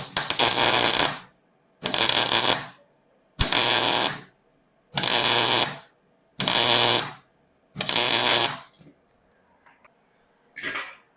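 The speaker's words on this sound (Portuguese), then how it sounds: "Aqui em cima eu vou fazer a solda do jeito certo" An arc welder lays a seam on a metalon steel tube in six even bursts of harsh, loud crackling buzz, each about a second long and separated by short silences, followed by a faint tap at the end.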